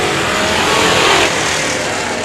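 Thundercars race cars thundering around the Indianapolis Speedrome short track, a loud continuous engine roar with revving swelling briefly at mid-clip.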